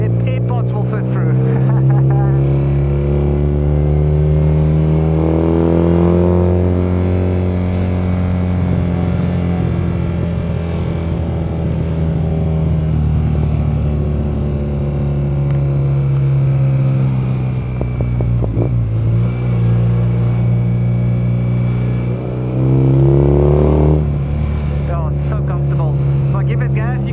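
A 1979 BMW R65 motorcycle engine drones steadily while riding, loud and close throughout, with subtle shifts in pitch as the revs rise and fall.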